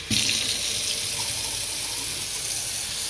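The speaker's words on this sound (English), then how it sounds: "The water is on now." Hot water runs from a kitchen sink tap during a DIY kitchen worktop and sink installation, a loud, steady hissing gush that starts abruptly and continues unbroken with no talk.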